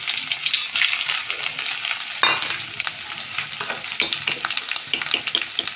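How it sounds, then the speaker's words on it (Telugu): Black-eyed peas tempered in hot oil, sizzling loudly and continuously with crackling bursts and stirring scrapes, close up, with no voices. "ఇప్పుడు నేనైతే బొబ్బర్లకు పోపు వేసుకుంటున్నాను."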